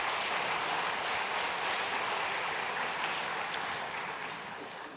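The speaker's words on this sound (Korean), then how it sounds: "잠깐 자리 일어나시면 큰 박수로 환영하겠습니다" A church congregation applauds to welcome visiting worshippers, a broad, sustained wash of many hands clapping that gradually thins toward the end.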